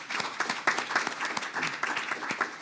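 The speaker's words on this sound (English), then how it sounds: "Let's give them a hand." Keynote audience at an interfaith conference applauding, with distinct claps landing in a quick uneven patter from a moderately sized crowd at medium distance, with no talk over them.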